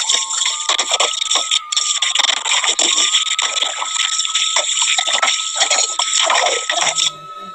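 Pots and dishes are scrubbed under running water at a tap, with splashing, gushing water mixed with scraping, clinking and knocking of utensils, close and busy, stopping abruptly near the end.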